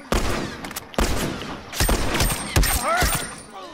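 Video game gunfire erupts in several loud, sharp bursts of shots, some rapid like automatic fire, with one person's voice heard faintly underneath.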